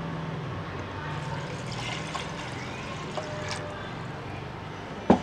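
Water is poured from a measuring cup into a pot of lentils for dal fry in a home kitchen, a steady splashing trickle lasting several seconds and ending with a brief clatter.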